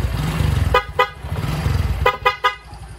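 Short horn toots over a running Honda XRM 110 motorcycle engine: two quick beeps, a pause, then three more honks in a rapid burst from a newly replaced, louder horn.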